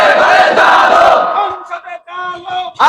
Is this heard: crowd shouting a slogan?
yes